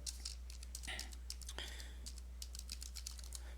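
Soft, quick keystrokes on a computer keyboard entering a terminal command, an irregular patter of light clicks, close but quiet over a steady low hum.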